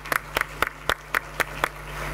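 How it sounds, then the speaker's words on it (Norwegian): Seven distinct hand claps ring out in a sparse, evenly spaced rhythm at a Norwegian panel talk on disability and employment, fairly close and clear with no talking over them. "Applaus"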